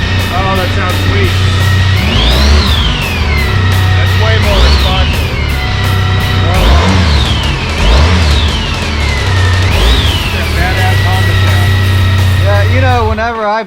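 Repaired Honda Goldwing motorcycle engine idling steadily up close, then revved in four sharp rising-and-falling bursts, with a voice speaking faintly beneath the engine.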